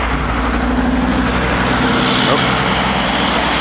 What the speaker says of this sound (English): Big old truck.